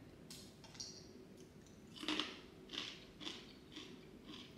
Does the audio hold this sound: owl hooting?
no